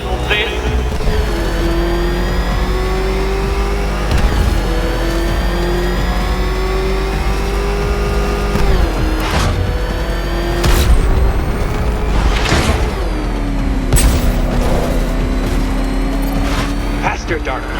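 Batmobile engine in the video game Batman Arkham Knight, a loud sustained roar with rising and falling pitch as it accelerates, broken by several sharp impacts and booms, with a voice talking over it.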